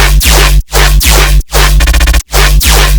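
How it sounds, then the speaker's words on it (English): Layered metallic riddim bass patch made in Serum, a growling, noisy metallic main layer over a fat, noisy sub, played as loud rhythmic stabs with short gaps and a rapid stuttering burst near the end. "It consists of 3 layers. The first one is the main bass, metallic rhythmish bass."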